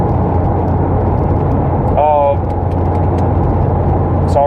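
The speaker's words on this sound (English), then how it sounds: "I'm trying to merge and traffic is just getting stupid right now" Car engine droning steadily while merging through traffic, a continuous close road noise with a couple of brief high tonal chirps over the hum, alone without speech.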